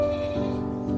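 A single goat gives a short, nasal bleat, close and clear, its wavering tone lasting about a second.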